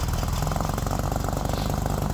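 A Jeep Wrangler engine runs steadily on a cold day with a buzzy, lawnmower-like chug, loud and continuous throughout with no talk over it.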